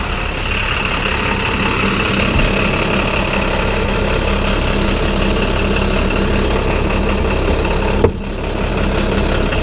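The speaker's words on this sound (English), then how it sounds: "Give her a little cold start there." A 2014 International 4300 Durastar with a MaxxForce DT diesel engine idles after a cold start, a loud, steady, close diesel drone with a brief click near the end.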